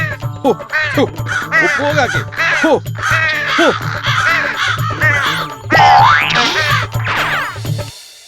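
A crow in a Malayalam children's cartoon caws repeatedly in loud, bright bursts, with a springy boing effect and voiced character sounds mixed in.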